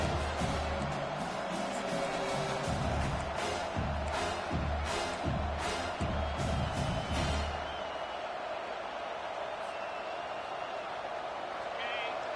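A college football stadium crowd roars and cheers steadily for a big third-down defensive play, a dense wash of voices under a pounding rhythmic beat that fades out partway through.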